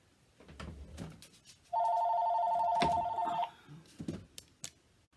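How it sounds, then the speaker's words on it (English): A telephone rings in one long, steady electronic burst of a few seconds, fairly loud and close, with a little background talk and room noise before and after. "When one of my daughters calls, I go answer the phone"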